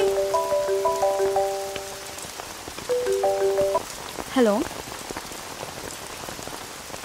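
Steady rain falls and patters on surfaces throughout, beneath a few melodic electronic tones and a short spoken greeting.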